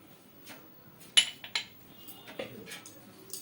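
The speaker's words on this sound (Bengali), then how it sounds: "এবার ভালো করে মিক্স করে নেব" A spoon stirs tamarind pulp sauce in a bowl, giving a few sharp clinks against the dish amid soft scraping, close and fairly quiet, with no one talking.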